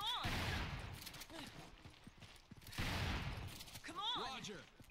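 Gunfire in the Resident Evil 5 video game erupts in two dense, loud volleys separated by a brief lull, with game voices shouting and crying out between and after the bursts.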